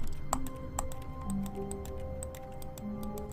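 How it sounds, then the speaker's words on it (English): Computer mouse clicks sound in The Stanley Parable video game, a quick irregular series of about a dozen sharp ticks over a quiet, low humming background. "Every time I click the mouse, listen."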